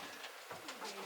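Young birds on a homestead give brief squawks and coos, a few soft calls scattered over a quiet background nearby.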